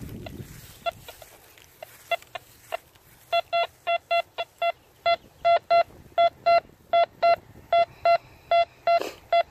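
A metal detector over a possible clad quarter in the ground sounds a run of loud, high, evenly spaced beeping tones that grow steadier and repeat rapidly after a few scattered blips.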